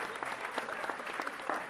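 Audience applause from a crowd, a steady dense patter of many hands clapping close and loud, continuous throughout with no voices over it.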